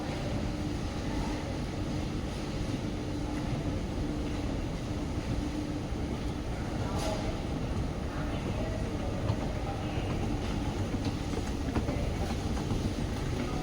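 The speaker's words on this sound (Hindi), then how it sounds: "इंडियन ट्रेन जैसा आवाज़ कर रहा है एस्केलेटर" An escalator or travelator under maintenance at Don Mueang Airport in Bangkok gives off a continuous loud rattling clatter much like a train carriage on rails, steady and close throughout.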